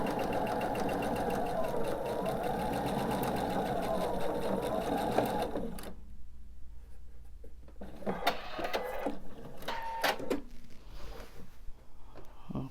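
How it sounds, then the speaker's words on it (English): A sewing machine runs steadily for about six seconds, backstitching at the end of a quilt top seam, then stops, leaving quieter handling and rustling of fabric. "I will backstitch since I won't be adding anything"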